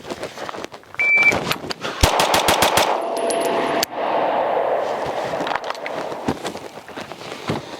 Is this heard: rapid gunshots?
yes